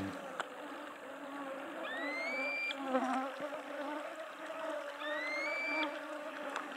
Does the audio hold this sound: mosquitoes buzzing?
yes